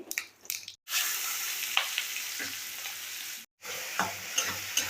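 A spoon stirs fried raw banana and potatoes with crushed cinnamon, cardamom and cloves in a hot pan, giving steady sizzling broken by scraping and clattering strokes and two brief silent gaps.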